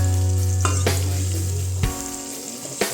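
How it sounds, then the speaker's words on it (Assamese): Masala of cumin and Kashmiri red chilli frying in a pan as the base for a meat gravy: a steady close sizzle with a low hum, broken by a couple of sharp stirring scrapes. "এতিয়া ইয়াক মই ভালদৰে মছলা সিজাম"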